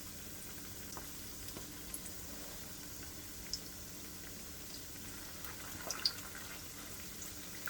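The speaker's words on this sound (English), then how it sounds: "You can see I'm very gentle with the transferring of the cake mixture, the fish cake mixture into the oil" Fish cake mixture fries in hot oil in a pan, giving a steady, even sizzle with a few small crackles and pops that rise slightly toward the end, with no voices.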